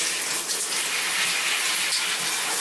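Steady, hissing spray of water falling continuously from a shower head in rain mode, close and fairly loud, with no pauses.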